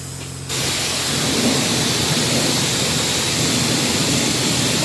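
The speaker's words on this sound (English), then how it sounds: "we're going to hit each tire with high pressure soap and rinse to" A pressure washer sprays soap and rinse water onto car tires. A loud, dense hiss starts abruptly after a quiet moment and holds steady and close throughout, with no talking.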